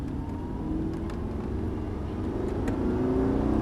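An Audi R8 with the 4.2 FSI V8 engine accelerates, heard from inside as a steady, loud, low engine drone whose pitch rises gradually, with no speech.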